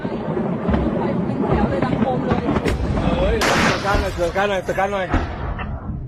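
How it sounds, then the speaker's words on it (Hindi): Sharp bursts of gunfire and heavy booms of artillery fire go off under a voice talking, during fighting along the Thailand–Cambodia border. "बॉर्डर से सटे इलाके में दोनों तरफ से जबरदस्त फायरिंग हो रही है।"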